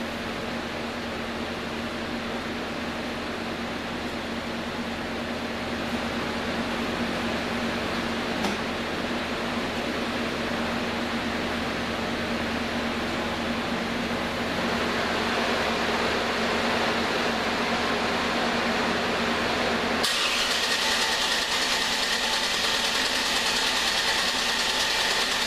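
Chevrolet Suburban truck engine cranking and running in a long steady drone with a low hum, the tone shifting partway through and turning brighter and hissier near the end.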